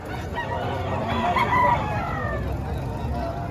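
A rooster crows once in a drawn-out call at a market with chickens for sale, set against a dense background of clucking fowl and crowd murmur.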